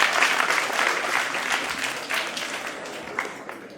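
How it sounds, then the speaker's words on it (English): Audience applause at a school quiz semifinal, a broad wash of clapping from many hands that starts full and slowly tapers off. "Please clap for them."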